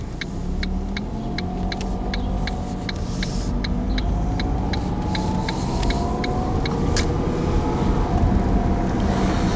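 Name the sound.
car driving on residential streets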